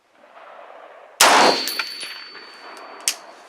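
A single M1A rifle shot fired at a steel target on an outdoor range lands as one sharp, loud crack near the start, followed by a ringing metallic clang from the steel and a second fainter impact ping, with no talking.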